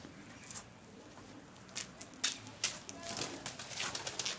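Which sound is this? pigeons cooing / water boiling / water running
pigeons cooing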